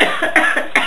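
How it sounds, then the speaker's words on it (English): A person coughs close and loudly in a rapid series of about three harsh bursts, with nothing else heard. "Because I need to cough."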